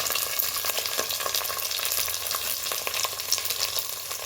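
Chopped green beans, carrots and green chillies sauté in a pan for Maharashtrian-style upma, giving a steady, close hiss of frying with small crackles throughout and no voices.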